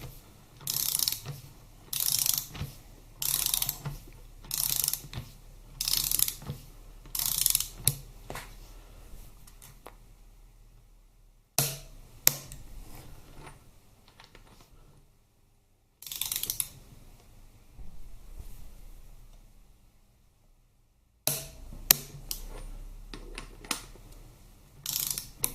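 A hand ratchet clicks in repeated bursts while tightening the nuts on a Harley-Davidson Twin Cam 88 cubic inch engine during a rebuild, the close, crisp pawl ratcheting broken by short pauses.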